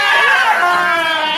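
Goats scream loudly and continuously in a dense, overlapping chorus, with harmonic bleating that fills the short burst and cuts off abruptly at the end.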